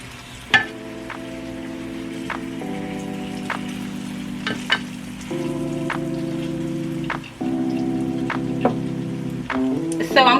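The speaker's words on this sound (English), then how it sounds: "take your pork chop and put it into that oil so we can fry them up" Pork chops fry in hot oil, giving a steady crackling sizzle throughout with occasional louder pops and spatters, close and continuous from start to finish.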